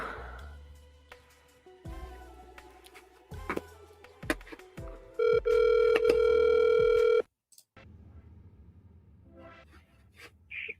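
Outgoing phone call to a realtor rings back through a handset: a few separated ring tones, then a long sustained loud tone that cuts off abruptly, followed by faint line noise.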